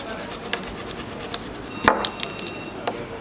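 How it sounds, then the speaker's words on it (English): Knife cutting the gill plates out of a fish head prepared as bait, heard as soft scraping and rubbing with a few sharper snips and one louder crunchy cut partway through, close up with no talk. "So the gill plates we start cutting out."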